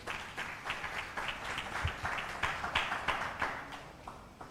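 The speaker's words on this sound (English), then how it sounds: "A round of applause to all our presenters." A modest audience at an African Council for Distance Education anniversary celebration applauds its presenters. The clapping is fairly faint, with rhythmic, somewhat sparse claps that sound like a small group and continue steadily throughout.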